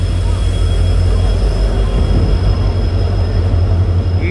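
A diesel locomotive on the Haripriya Express rumbles loudly and continuously beside the platform, a heavy, steady low drone.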